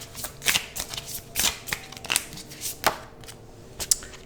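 Tarot cards shuffled by hand in a quick run of riffling bursts and soft flutters, close and clear with no talk over them.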